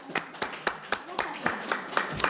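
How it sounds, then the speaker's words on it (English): A select board meeting audience gives a short round of clapping, with evenly spaced individual claps sounding sparse and close, as if few people are taking part. "this great audience that's showing up tonight needs to applaud itself"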